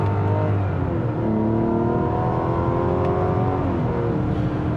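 A 2025 Mazda CX-70 Turbo S turbocharged SUV accelerates at full throttle in manual mode, its engine note rising steadily and loudly from inside the cabin over a constant road roar.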